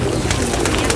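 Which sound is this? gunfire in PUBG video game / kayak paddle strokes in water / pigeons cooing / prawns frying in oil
pigeons cooing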